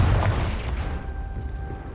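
Confringo blasting spell going off in Hogwarts Legacy, a loud, booming low-end burst at the start that rumbles and decays over about two seconds.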